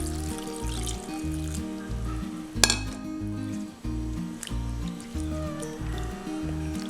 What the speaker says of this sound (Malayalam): ഇതിലേക്ക് കുറച്ച് വെള്ളം ഒഴിച്ചിട്ട് നന്നായിട്ട് കഴുകിയെടുക്കാം.